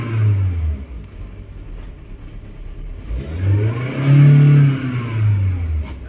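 Volkswagen petrol car engine revving up twice nearby, the pitch climbing and falling in two strong surges over a steady idle.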